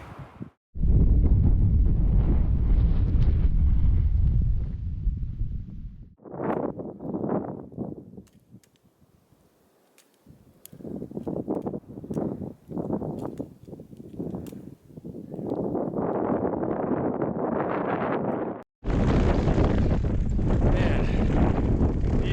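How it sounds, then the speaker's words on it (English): Strong wind of roughly 40 mph buffets the microphone in loud, roaring gusts near Baxter Lake on Mount Clarence King, easing into brief lulls before surging again, with faint rustling between blasts. "Gotta be like 40-mile-per-hour gusts."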